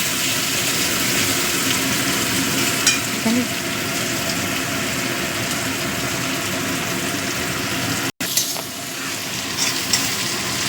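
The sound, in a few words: chopped onions frying in oil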